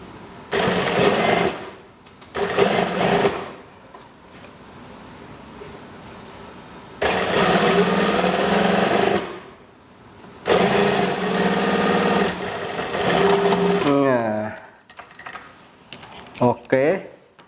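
Sewing machine stitching the seam of a kimono-style house dress with set-in sleeves, running in several bursts of a few seconds each with short pauses between them, close and steady, with brief handling noises near the end.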